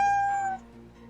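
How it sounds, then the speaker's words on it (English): A cat meows softly inside a horror video game, a single tonal call with a held tone that fades after about half a second, leaving a quiet low hum. "You hear the cat meowing softly."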